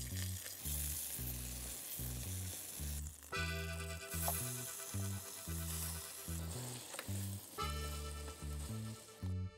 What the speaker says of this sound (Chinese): 用小火煎它的侧边